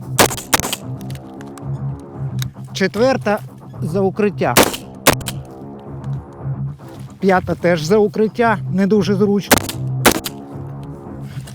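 A few sharp, loud assault rifle shots crack at irregular intervals at targets on a shooting range while someone talks nearby between them.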